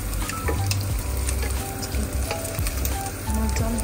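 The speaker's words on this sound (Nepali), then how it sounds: "मासु मजाले भुटिँदैछ" Chicken giblets sizzle loudly in a hot pan, a steady crackling fry with the clatter of stirring throughout and no voices.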